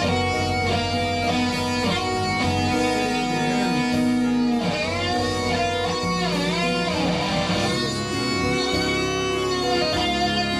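Electric guitar, a Fender, played without delay, bending notes into squelchy, wah-like swoops over a dense sustained rock backing, loud and continuous throughout.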